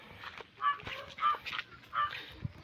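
Chickens in a poultry shed on a farm holding about a hundred birds, with three loud squawking calls spaced about a second apart over quieter clucking, close by.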